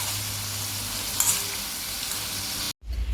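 Cheese koththu sizzles and crackles in a little hot oil while being stirred, a steady loud frying hiss close by, briefly cut off near the end.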